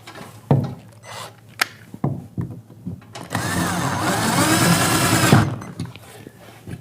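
A screw being driven back into a curtain track bracket on a ceiling with a power driver gives a steady whirring burst of about two seconds. Scattered taps and knocks of handling come before and after it, and there is no talk.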